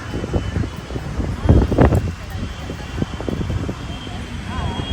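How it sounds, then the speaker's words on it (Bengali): Steady seaside wind buffets the microphone on a beach, a continuous low rumble with gusts, while someone talks over it. "কি হাওয়া এখানে দারুণ লাগছে"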